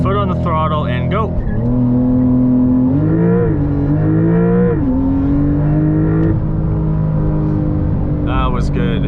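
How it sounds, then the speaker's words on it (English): A 2023 Porsche 911 GTS in Sport Response launches from standstill for a 0–60 run. The engine is loud and close, roaring and climbing in pitch through several gear changes before easing off near the end. "we're gonna do a little 0 to 60 right here just to show you guys how fast this car actually is"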